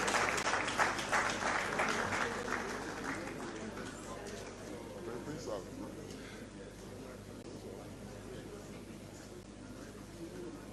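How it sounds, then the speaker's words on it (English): Audience at the first KAZA transfrontier conservation area heads of state summit breaks into a round of applause, loudest at first and gradually thinning and fading, with speech audible underneath. "Yes, we can give a round of applause."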